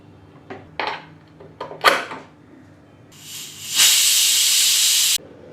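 A pressure cooker cooking chicken korma lets out a loud, steady hiss of escaping steam through its whistle for a couple of seconds after some clattering kitchen clicks and knocks.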